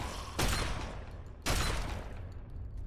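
Two heavy shotgun blasts in the game Fallout 3, about a second apart, each a loud booming crack with a lingering tail over low background rumble; no talking.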